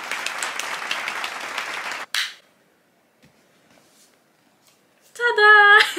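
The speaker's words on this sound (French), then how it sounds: "Attention, applaudissements, félicitations" A short burst of dense applause plays for about two seconds, then stops abruptly, followed by near silence and a brief bright chime-like jingle at the end.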